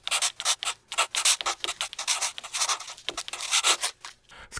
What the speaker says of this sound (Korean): 이런 연필 쓰는 소리를 이렇게 가져다 놓는데